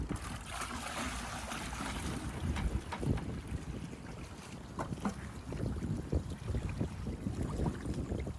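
Water from a bucket nozzle runs down a homemade sluice box outdoors during gold prospecting, making a steady rushing, trickling flow mixed with wind noise on the microphone and occasional splashes.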